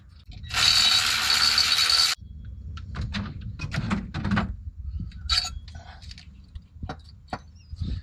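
A ratchet wrench backs out a 10 mm bolt on the engine of a 2007 Chevrolet Suburban, starting with a loud, close burst of rapid clicking about a second and a half long, then scattered metallic taps, clinks and handling noises.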